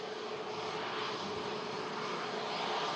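A 13-year-old TUI Boeing 737-800 at Manchester Airport during a storm, its jet engines giving a steady, broad roar with no talk.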